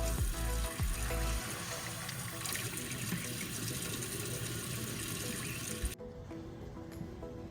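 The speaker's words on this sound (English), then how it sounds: "now we're going to fill the tank with water" Steady rushing water pours into an RV holding tank during tank cleaning, a constant hiss with a few low thumps at the start, continuing until the flow cuts to a quieter trickle near the end.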